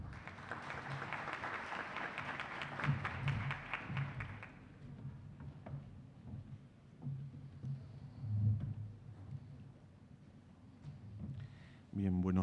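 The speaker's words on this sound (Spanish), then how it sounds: "recibámoslo con un fuerte aplauso" An audience at an international constitutional law congress at the Universidad de Nariño applauds to welcome a doctor to the podium. Dense clapping fills the first four seconds, then thins out, and a low voice and room murmur follow.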